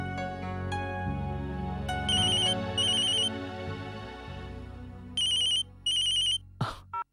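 A mobile phone plays a melodic ringtone, a clear tune of changing notes with repeated bright chirping ring bursts, loud and alone, ending abruptly as the call is answered.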